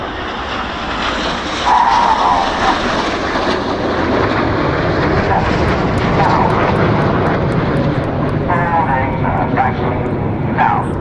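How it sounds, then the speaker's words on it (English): A Red Arrows BAE Hawk jet flies solo at the Farnborough Airshow, a loud, sustained engine roar that fills the whole stretch outdoors, with speech blending in. "There's a lone jet, that is Red 9, who's now going to fly the Goose."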